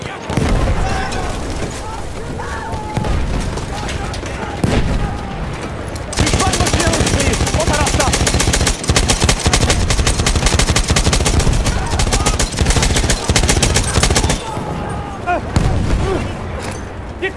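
Perino Model 1908 light machine gun firing in a video game set on Achi Baba, with long sustained bursts of rapid automatic fire amid dense battlefield gunfire and explosions, loud and continuous throughout.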